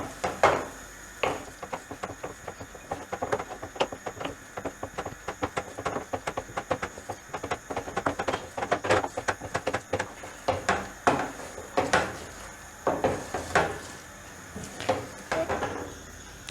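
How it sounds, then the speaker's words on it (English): Eggs being mixed in a pan for a sweet midnight snack, heard as a steady run of quick scraping clicks and clattering taps of the utensil against the pan, fairly close and with no talking. "And now at the beginning we start mixing."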